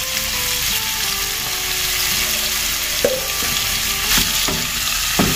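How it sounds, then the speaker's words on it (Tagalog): Shrimp and prawns sauté in a hot pan with garlic, onion and ginger, a loud continuous sizzle with a few sharper crackles and spatula scrapes toward the end, no voices over it. "Tapos lagay na natin ating hipon tsaka sugpo. Igisa muna natin ito."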